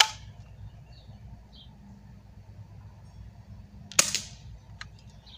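A single sharp BB gun shot in an outdoor long-range shooting session, a crisp crack with a brief ringing tail near the end, over a steady low outdoor background.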